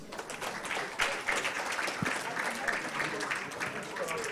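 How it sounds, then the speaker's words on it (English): Audience at a World Children's Day media symposium applauding the panelists and moderator, a sustained patter of clapping from a room of people, moderately loud and steady, with some voices murmuring underneath. "A round of applause, ladies and gentlemen, for our distinguished panelists"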